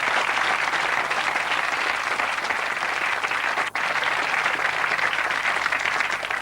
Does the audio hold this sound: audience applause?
yes